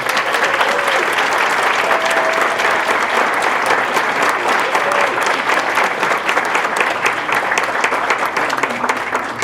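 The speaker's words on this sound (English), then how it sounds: "Please stand and let's give them a round of applause." A standing audience at a county board of education award ceremony claps continuously, a full, even roar of many hands sustained across the whole stretch, with faint tonal traces from the room.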